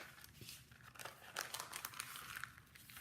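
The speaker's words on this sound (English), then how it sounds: "You're going to fold it back" Paper being folded and creased with a bone folder while making a vintage trifold paper bag, soft close crinkling and crisp rustles in short bursts, faint and alone.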